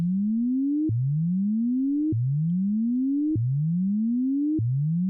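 A synthesizer oscillator's pitch is frequency-modulated by a slow saw-shaped LFO, so the plain tone rises smoothly and then snaps back down, repeating four times at a steady rhythm.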